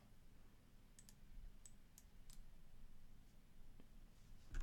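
Several sharp, quiet computer mouse clicks while working in the VS Code editor, spaced irregularly over a low background hum, with no talking.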